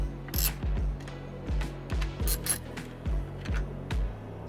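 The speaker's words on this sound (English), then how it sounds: "we're going to grab our ratchet with our 8mm socket and we're going to go ahead and unscrew those" A ratchet with an 8mm socket unscrews tail light bolts on a 10th gen Honda Civic hatchback, giving a steady run of sharp, close ratcheting clicks in a regular rhythm, with no talking.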